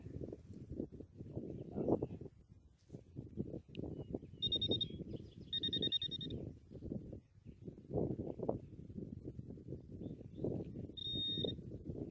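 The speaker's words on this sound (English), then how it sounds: "This is ringing up like a zinc penny" Short high electronic beeps from a metal detector reading a zinc penny in a yard, chirping a few times over rustling and scraping noises close by.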